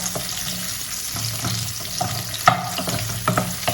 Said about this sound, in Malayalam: അത് അരിഞ്ഞത് കരിവേപ്പിലയും കൂടി ഇട്ടിട്ട് നന്നായിട്ട് വഴറ്റുക